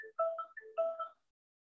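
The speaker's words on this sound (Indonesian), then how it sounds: "ini ada telepon dari Bali, saya harus pending supaya tidak mengganggu" A phone ringtone from an incoming call plays a short melodic pattern of bright tonal beeps in two quick phrases, moderately faint and alone, then stops.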